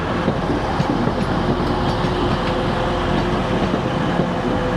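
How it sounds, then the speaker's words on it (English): A train rolls past a level crossing on a line heading into a station, a steady close rumble with rhythmic wheel clatter and faint squeals throughout. "But now we have a train coming past."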